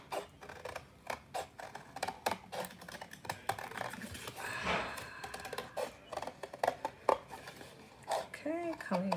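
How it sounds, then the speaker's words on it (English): Scissors snip through paper as a drawn snitch shape is cut out, with irregular close clicks and crisp cuts that come in short bursts, quiet and alone. "Now I'm gonna go ahead and cut my snitch shape out."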